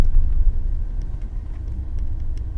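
A car drives along with a steady low engine rumble and road noise, close and fairly loud, with no voices.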